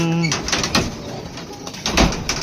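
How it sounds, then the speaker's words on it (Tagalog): Pigeons coo close by in their coop at evening, throaty rolling calls with rustling and wing flutters, while a person talks at times over them. "Tapos na ang kumain yung ating mga kalapate"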